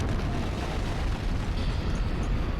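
A loud explosion from the Danganronpa: Trigger Happy Havoc video game, a dense sustained rumbling blast that fills the whole clip with heavy low-end roar and no talking.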